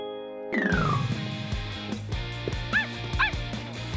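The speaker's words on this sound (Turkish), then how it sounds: "Havlama sesi duyduğuma eminim." A couple of short, high yipping barks come over a busy music backing, after a sustained tone fades out at the start.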